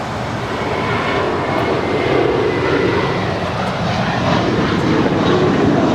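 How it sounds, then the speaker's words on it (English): A jet airliner, an Airbus A321, roars loudly and steadily as it flies past, a broad continuous engine rumble holding for several seconds with no voices. "Airlines Flight 382 heading to Boston, Massachusetts on an A321."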